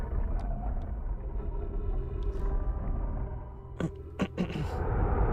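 Low, steady wind rumbles across the glacial planet Giant's Deep in the video game Outer Wilds, a dense droning roar broken by a few brief sharp clicks near the end.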